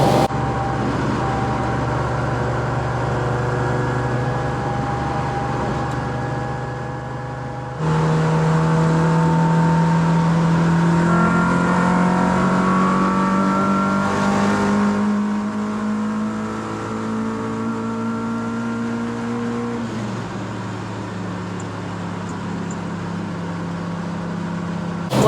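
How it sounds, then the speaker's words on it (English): An Audi RS6 drives past, its engine note climbing and then falling through the pass while steady road noise continues on both sides of it, alone with no voices. "Gotta let the RS6 go past."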